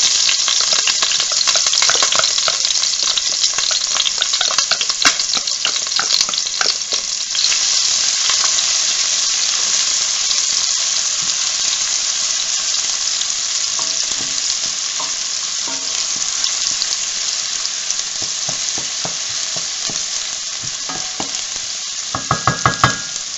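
Onion sizzles loudly in a pot of hot oil for lentil soup, a dense close hiss with scraping and stirring clatter, ending in a few sharp knocks. No voices are heard.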